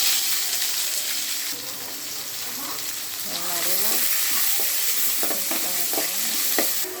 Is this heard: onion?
yes